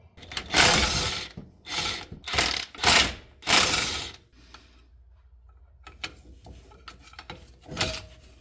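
A hand ratchet working loose the drive shaft bolts on a Honda S2000 under repair, with five loud bursts of rapid clicking in the first half, followed by quieter scattered clicks and taps.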